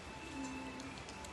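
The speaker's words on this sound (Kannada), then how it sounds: "ಹನಿ ಮಳೆ ಬರ್ತಾ ಇದೆ" Light drizzle patters faintly and steadily outdoors in a quiet setting, a soft continuous hiss of small drops with no voices.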